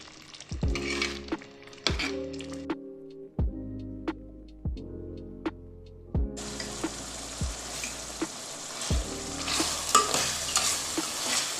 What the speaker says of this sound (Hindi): इसको भून लेंगे।